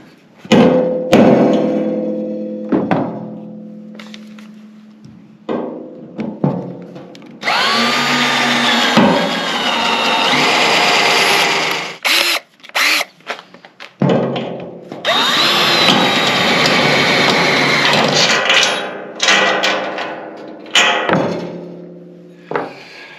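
Drilling 5/16 inch holes in an aluminum RDS transfer fuel tank, loud whining power-drill bursts of several seconds each, separated by short pauses and clunks, close up with no talking.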